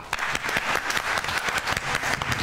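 Studio audience applauding on the Iranian pantomime game show Pantoleague, dense steady clapping filling the moment at close range without speech.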